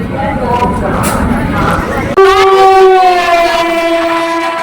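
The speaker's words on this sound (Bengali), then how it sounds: "বালি থেকে ট্রেনটি ছেড়ে দিয়েছে" Voices and station bustle fill the platform at Bally as a local train sets off toward Uttarpara, then a loud horn blast starts midway and slides slightly lower in pitch over rolling train noise.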